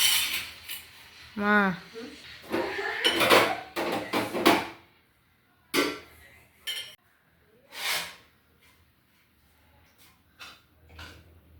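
Dishes and cutlery clink and clatter in scattered bursts, metal and ceramic knocking together nearby, with pauses between clusters of sounds.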